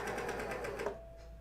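A serger races along a seam on underwear fabric, its rapid even stitching chatter steady and close before it slows and stops near the end, leaving a faint hum.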